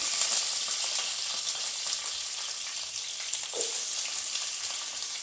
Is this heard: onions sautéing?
yes